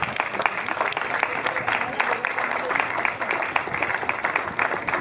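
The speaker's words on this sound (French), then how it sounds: "On peut les applaudir d'ailleurs." An audience at a village festival inauguration applauding Paralympic medallists, a steady, dense clapping from a sizeable crowd holding at even loudness throughout.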